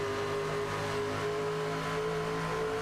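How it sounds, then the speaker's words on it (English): A racing truck engine in a sim racing game at Nashville drones steadily at high revs from an onboard view, loud and continuous with a constant tonal whine. "Entering turn number 3 there as we ride on board with this number 1 truck of Hayden Williams."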